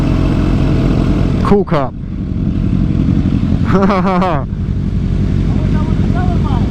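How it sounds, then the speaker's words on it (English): A supercharged car engine gives a loud, steady low rumble close by, with people talking over it. "Supercharged. That's supercharged too."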